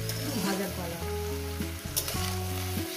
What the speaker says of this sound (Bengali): এবার এগুলো ভেজে নেব, ভাজার কলা